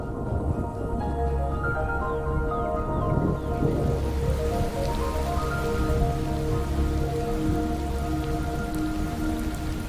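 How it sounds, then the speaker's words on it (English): Steady rain falls across the Serengeti savanna, a dense, continuous hiss of drops hitting the ground and vegetation, loud and even throughout with no voices. "Coinciding with Kit's departure is the coming of the rains."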